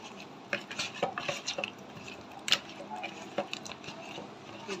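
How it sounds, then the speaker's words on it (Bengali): Rui fish pieces being hand-mixed with turmeric, chili powder, spices and oil in a metal bowl, giving soft squelching and scattered clinks of the dish, close and fairly quiet, with a few louder knocks. "দিয়ে মাছটি ভালো করে মেখে নিব"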